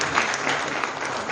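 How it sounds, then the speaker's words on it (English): Applause at an annual conclave award ceremony in Delhi as a recipient comes on stage: a brief, steady wash of crowd clapping, moderately loud and unbroken. "A big round of applause for him."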